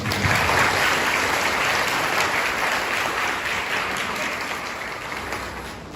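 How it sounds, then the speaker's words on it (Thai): Sustained applause from guests at Talan and Ploy's wedding ceremony, a dense steady wash of many hands clapping close and loud for the full stretch, with no voices over it. "อยากจะให้พี่น้องได้ปรบมือให้กับผมกัน"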